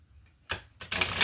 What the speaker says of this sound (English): Difficult shuffle.